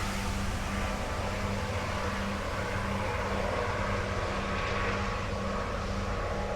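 A Coast Guard helicopter flies overhead, heard as a steady, moderately faint rotor and engine drone with a low pulsing hum that continues without a break. No one speaks.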